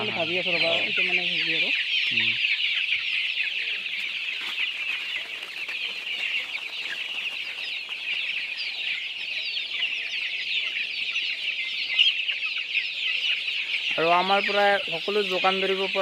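Chickens cluck in short bursts at the start and again near the end, over a constant chorus of high chirping from many chicks, on a local chicken farm.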